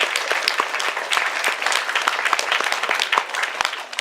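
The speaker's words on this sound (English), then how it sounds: "Hey, clap for you guys." A convention audience applauds steadily at an opening ceremony, many hands clapping in a dense, continuous wash that fades slightly at the end.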